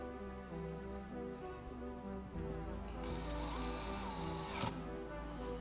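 Power driver sending screws into Griffin Precision scope mount rings, a steady close mechanical whir with ratcheting clicks that grows louder midway, with no talking.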